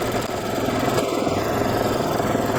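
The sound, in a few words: embroidery sewing machine stitching heavily over the same spot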